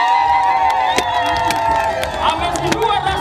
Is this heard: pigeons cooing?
no